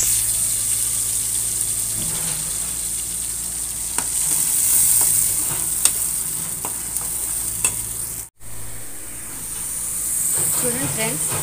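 Ground tomato and onion masala fries in a pan for a raw banana curry, giving a steady close sizzle with occasional stirring scrapes, one brief dropout near the end.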